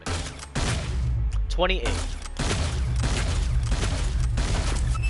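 Salvo weapon fused to max level firing in the video game Hyper Scape, a series of loud rapid gunshot bursts with brief pauses between them, while someone talks over the shots.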